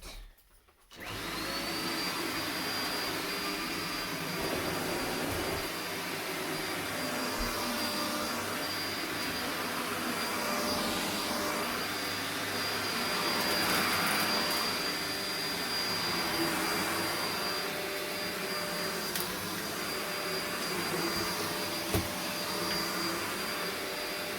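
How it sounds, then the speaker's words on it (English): A Vacmaster Captura vacuum cleaner runs continuously over a carpet, picking up leftover dirt, its steady motor whine and airflow roar rising and falling slightly as it passes back and forth, close and loud, with no talking. "now let's just vacuum all the rest of the dirt that's left behind"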